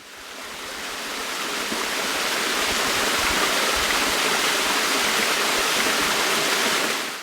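Water of the Carmel River rushing steadily in a continuous broadband roar that swells in over the first seconds and holds loud and close to the end, with no voices.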